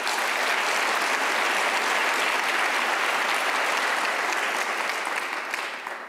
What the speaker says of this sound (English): Please offer a round of applause for Helen Clark.